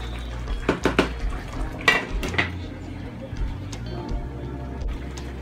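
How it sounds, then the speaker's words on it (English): A spoon scrapes and clinks against a cooking pot of gravy in several uneven bursts, close by, with a faint bubbling underneath. A person talks over it. "You gotta come and make sure you stir it."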